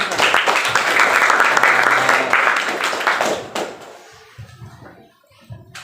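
A classroom of students applauds a classmate with brisk clapping that fades after about three and a half seconds, leaving a quiet room with small scattered sounds.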